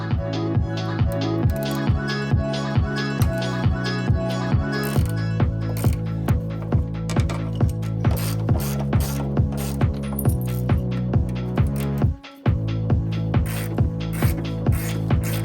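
Ratchet wrench working suspension bolts on a Ford Focus ST, a steady rapid clicking pawl in regular strokes, close and continuous, with one brief pause near the end.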